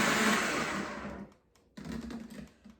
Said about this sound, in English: I'm always trying to figure this blender out.